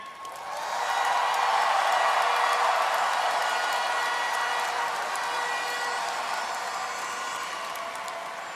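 Audience at the Miss Universe 2023 preliminary swimsuit show bursts into sustained applause and cheering, swelling quickly and then slowly fading while still going, a dense crowd sound heard from within the hall.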